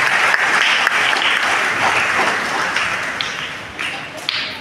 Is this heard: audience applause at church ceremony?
yes